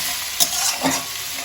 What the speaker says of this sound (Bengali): এবার আমি সবার প্রথম রসুন কুচিটা দিয়ে দিচ্ছি রসুনটা দিয়ে একটুখানি সময় নেড়ে নিয়ে